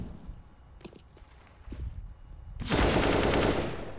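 Shotgun gunfire in an online shooter game erupts loudly after a quieter stretch of soft footsteps and clicks, forming a dense burst that fills the last second and a half.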